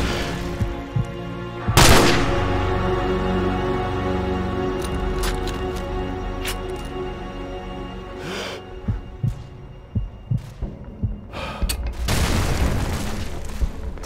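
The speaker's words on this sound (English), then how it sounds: "Open fire." Call of Duty Modern Warfare gunfire: sparse, loud shots and booms burst out against a sustained ambient drone, with a cluster of sharp cracks near the end.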